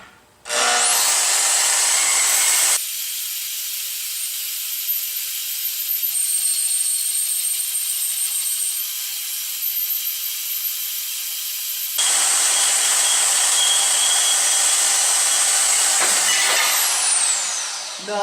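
A Milwaukee portable bandsaw cuts through steel square tubing, giving a steady, loud grinding hiss that runs continuously, with a brighter, harsher stretch at the start and end of the cut and no talking.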